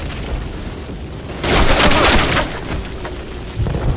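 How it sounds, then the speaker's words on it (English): A grenade goes off in the video game Call of Duty, a loud boom with a burst of debris and gunfire-like crackle amid ongoing battle noise in a burning village. "Get down! Grenade!"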